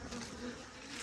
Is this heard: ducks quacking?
no